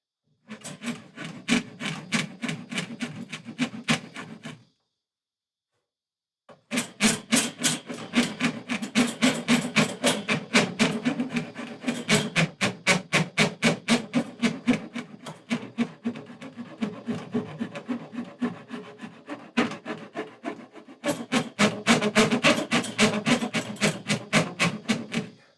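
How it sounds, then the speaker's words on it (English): Curved rasp shaping the wood of a custom guitar in a luthier's workshop, close rhythmic rasping strokes in quick succession, pausing briefly before resuming for long runs. "I'm going to have to transition that now with the curved rasp."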